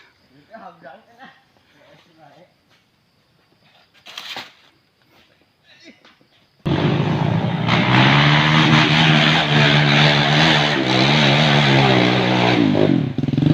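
A motorcycle engine warming up on a Sunday fires up partway through and revs loudly and steadily up close, drowning out the quieter talk and shuffling heard beforehand.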